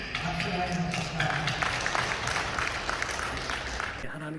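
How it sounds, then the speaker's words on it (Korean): Church congregation at a New Year prayer service gives the pastor a round of applause, a steady wash of clapping from a large crowd, with voices mixed in and the sound cutting off at the end. "우리 목사님 박수 많이 주십시다."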